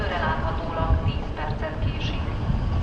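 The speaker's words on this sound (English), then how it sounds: "There goes the Kékulám to Szombathely via the Balaton North Shore." An electric Hungarian passenger train rolls through a Budapest station, a steady loud rumble and rail roar lasting throughout, with a voice talking over it.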